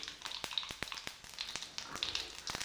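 Cumin and mustard seeds spatter in hot oil in a kadhai, a steady close crackle with sharp pops scattered throughout and no voices.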